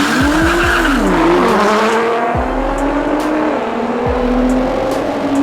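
Alpha 6 GTR race cars in an underground grudge race, engines screaming loud and close with rising and falling revs, gear-change dips and tire squeal, one car sweeping past near the middle.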